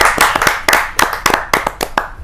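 Audience applause at a Hindi poetry gathering (kavi sammelan): a loose scattering of sharp, close hand claps in an uneven rhythm, fairly loud, with no talking over it.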